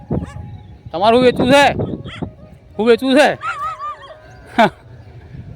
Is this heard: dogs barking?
yes